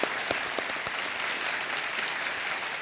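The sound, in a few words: applause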